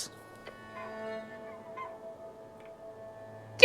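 A cartoonish bird squawks in the video game Esoteric Ebb, a nasal, tonal call that holds steady for a few seconds over quiet background music, with a sharper burst at the end.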